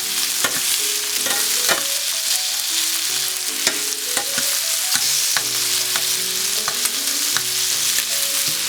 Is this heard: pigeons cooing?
no